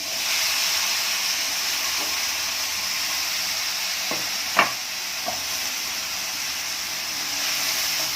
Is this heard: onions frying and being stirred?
yes